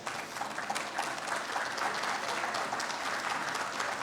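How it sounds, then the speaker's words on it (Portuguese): Steady applause from a crowd, a dense patter of many hands clapping throughout, fairly loud and without anyone speaking. "Ailton Brasiliense Pires, ao qual eu peço uma salva de palmas."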